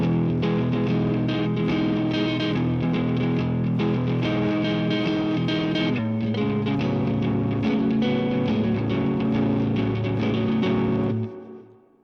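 A distorted electric guitar riff through effects plays steadily and loudly for about eleven seconds, with a brief dip midway, then fades out.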